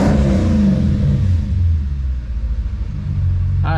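A car engine idles and briefly revs after an oil pan leak repair, a loud close rumble with a short rising rev at the start settling into a steady idle.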